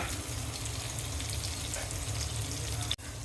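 Tomato and mustard paste frying in oil for a Bengali mustard hilsa curry, a steady close crackling sizzle that holds evenly throughout, broken by a brief dip near the end.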